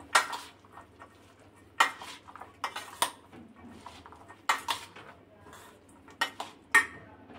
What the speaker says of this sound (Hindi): सारी चीजों को मिक्स करेंगे।